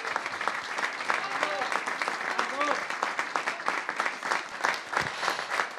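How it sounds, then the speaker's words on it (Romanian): A theatre audience applauds a dance troupe after a choreographed number, loud continuous clapping from a large crowd, with a few voices calling out over it. "Aplauze încă o dată pentru Juno Dance!"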